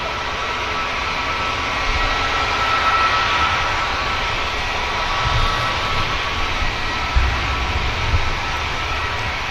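Lufthansa jet aircraft departing at Manchester Airport, a steady distant engine rumble and hiss that stays fairly even throughout.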